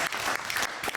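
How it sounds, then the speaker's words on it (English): Audience applause for a stand-up comedian at a comedy show, a dense, steady wash of clapping filling the whole short moment at close range with no voices over it. "Give a big round of applause, Long John."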